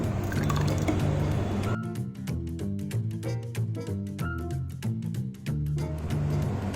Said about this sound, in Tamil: இதை இனிமேல் இந்த ஃபில்டரில் இருத்து நம்ம தண்ணி எடுத்துக்கலாம்.